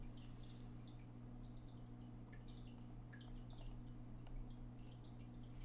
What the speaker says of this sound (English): that water is like super loud now. I gotta put some water in that fish tank